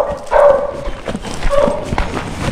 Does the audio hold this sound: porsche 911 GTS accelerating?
no